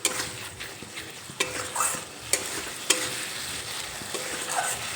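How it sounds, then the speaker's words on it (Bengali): Chopped medium tomato fries with spices for a cauliflower, potato and fish curry, a soft steady sizzle with scattered clinks and scrapes of a spatula stirring in the pan, no voices. "টমেটো দিয়েও একটু নেড়ে চেড়ে নেব"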